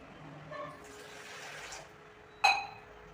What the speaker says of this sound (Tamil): நான் வந்து ஒரு முக்கால் கப் தண்ணி ஊற்றிக்கிறேன்.